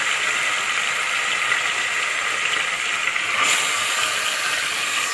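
Meat hitting a hot pot of biryani masala sends up a steady, loud hiss of sizzling that carries on without a break.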